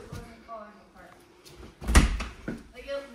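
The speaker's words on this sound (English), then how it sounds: "Should we shut the door?" A door in an abandoned building is pushed shut with one solid thump, followed by a faint rattle, amid quiet conversation from people nearby.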